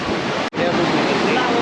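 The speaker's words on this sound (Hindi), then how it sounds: "पार्वती नदी है भाई, यहीं से होकर के जाती है। और बहाव देखो यहाँ पे बहुत तेज़ है।" The fast-flowing Parvati river near Kasol and Manikaran Sahib roars as a loud, steady wash of rushing water, broken by one brief dropout of the sound early on.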